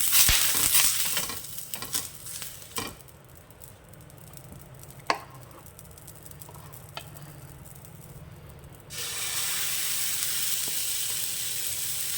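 Thin dosa batter made with semiya (vermicelli) sizzles on a pan set to high heat, a steady frying hiss with a few clinks and stirring scrapes, dropping quieter midway before a louder, broader sizzle swells up near the end.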